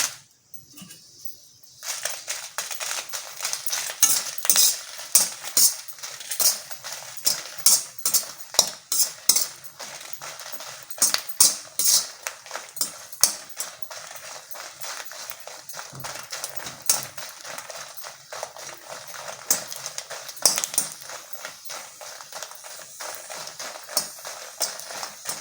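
Dried red chillies roast in a kadai with a little oil, stirred repeatedly so a metal spoon scrapes and clinks against the pan in uneven bursts over a faint background hiss.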